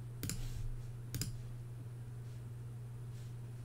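Computer mouse clicking, two quick crisp double clicks close to the microphone over a steady low electrical hum.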